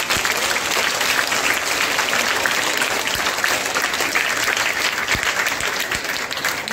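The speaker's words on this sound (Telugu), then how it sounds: "ఒకసారి మేడం గారికి గట్టిగా క్లాప్స్ కొట్టారు." An audience at a free coaching session claps loudly and steadily for a woman guest, a dense, continuous round of applause from a crowd, close and sustained throughout.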